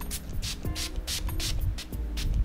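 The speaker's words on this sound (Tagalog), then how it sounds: "Yung setting spray." A Wet n Wild makeup setting spray is misted onto a face in a rapid series of short, breathy hissing spritzes, close and fairly loud, repeating at an even rhythm with no speech.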